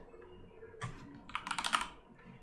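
Computer keyboard typing while setting up text and fonts in a 3D texturing workflow: a short burst of keystrokes, then a denser flurry of quick clicks, close and fairly quiet, with no talking.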